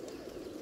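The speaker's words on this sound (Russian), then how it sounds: "Есть голуби." Pigeons in a large flock being raised into the sky, a soft low continuous cooing murmur, faint and steady, with no voices.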